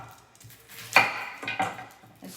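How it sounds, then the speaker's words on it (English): A knife cuts an onion into chunks on a cutting board, giving a few sharp, close chops with uneven spacing amid quiet kitchen handling. "I'm just using the knife because I want onion chunks"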